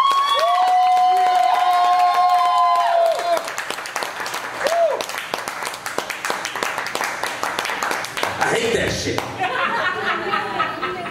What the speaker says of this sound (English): Before the feature comes up, I want you to clap for the feature.